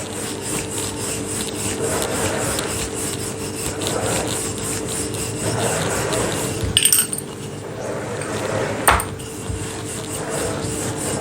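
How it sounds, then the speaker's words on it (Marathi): A rolling pin works sweet puran poli dough on a board, giving a steady soft rubbing and rasping rhythm with a couple of sharper knocks, close and moderately loud, with no voices. "दोन्ही बाजूनी छान अशी पोळी आपली तयार झालेली आहे"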